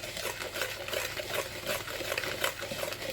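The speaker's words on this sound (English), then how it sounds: "we're going to go ahead and whisk this really, really well" Peach cobbler batter ingredients are whisked briskly in a bowl, a continuous close scraping and rhythmic swishing that runs the whole time without talk.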